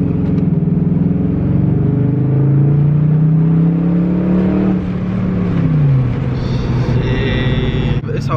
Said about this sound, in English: I said my SRT8 sounds kind of dirty